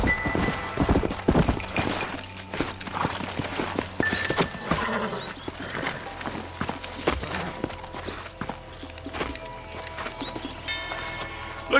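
Horses in Red Dead Redemption clip-clop along at a walk and trot while one neighs, with hoofbeats close and steady over a busy game soundscape.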